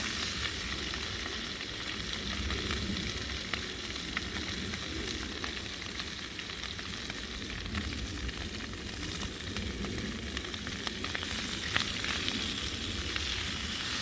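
Spam sizzles and crackles in a pan during an outdoor woodland lunch by a lavvu tent, a steady close-up hiss with small pops throughout and no talking.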